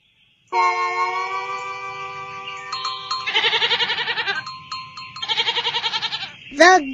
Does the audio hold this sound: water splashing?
no